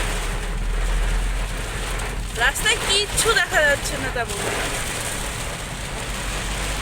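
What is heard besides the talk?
heavy torrential rain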